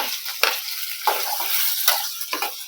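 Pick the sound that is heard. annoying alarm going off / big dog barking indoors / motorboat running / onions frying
onions frying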